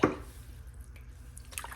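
A toothbrush dipped into a bucket of water for cleaning a BMW front grille, a brief wet splash at the start followed by faint drips and small liquid movements close by.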